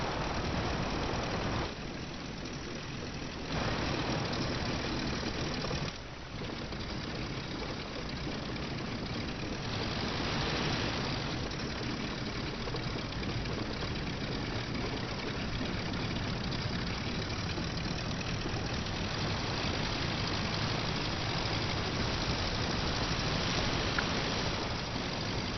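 A WWI biplane engine idling in the flight game Rise of Flight, a continuous rough, throbbing drone that shifts level a few times and briefly dips, steady and close.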